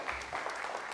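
Audience applause at a talk on a brain microchip implant: about a second of steady, fairly faint clapping from a crowd, heard alone without speech.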